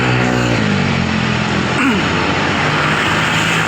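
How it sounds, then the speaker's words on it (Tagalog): Up close, a large airplane's engine roars loud and continuous, with droning tones that shift slightly as it runs, near and dominant throughout. "Ito ang eroplano"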